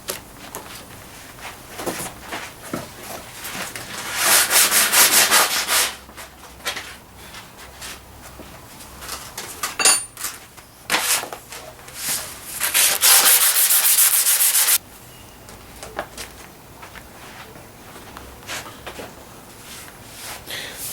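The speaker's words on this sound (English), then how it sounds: "100 grit sandpaper." Sandpaper of 100 grit rubbing over a freshly forged steel hatchet, a steady scraping hiss in long strokes, loud and close, with quieter pauses between passes.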